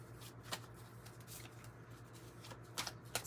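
Oracle cards being shuffled and pulled in a quiet room, soft flicking and riffling bursts that are faint and close, over a low steady hum.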